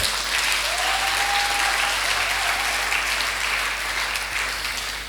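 A church congregation applauds and acclaims the Lord, with steady, dense clapping from a crowd and faint cheering voices that taper off slightly toward the end.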